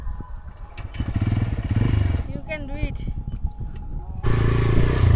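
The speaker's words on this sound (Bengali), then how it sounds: "অভি এবার একা একা বাইক চালাচ্ছে" A first-time rider's motorcycle engine revs up and settles unevenly, rising and falling in bursts before a louder surge at the end, with people talking and encouraging over it.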